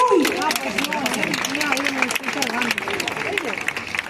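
Crowd applause at a Catalan town's summer festival opening speech, a dense ongoing clatter of clapping heard beneath a loud voice talking over it.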